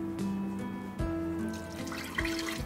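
Water pours into a pot of rasam rice with toor dal as it cooks. It makes a close, gurgling, splashing stream with a couple of sharper splashes, and no voices are heard.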